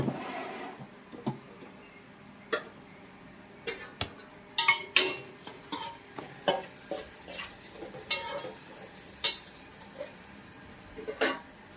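Onions frying with salt in a pan, a quiet sizzle broken by scattered sharp clinks and scrapes of a spoon stirring, close and intermittent, no one speaking.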